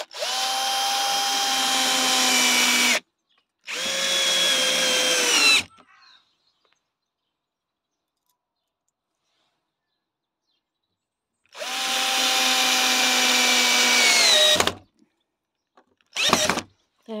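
Power drill driving screws into a handle: three long whirring bursts of two to three seconds each with rising pitch, separated by a long silent gap, then a brief final spurt, loud and close with no talk.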